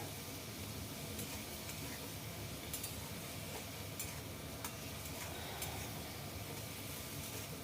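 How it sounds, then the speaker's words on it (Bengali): Ginger is stirred and fried in a pan at a soft, steady sizzle, with faint scrapes and taps from the spatula. The sound stays quiet and even throughout. "আদাটাকে একটু নেড়ে চেড়ে ভালো করে ভেজে নিচ্ছি"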